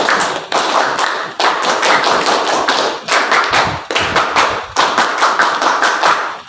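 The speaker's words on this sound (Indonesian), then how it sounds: "kita mengadakan tepuk pramuka dulu." Schoolchildren in an Indonesian classroom perform the scout clapping routine, tepuk pramuka: loud, close, sharp rhythmic group claps in quick patterned bursts, with short pauses between phrases and no talking.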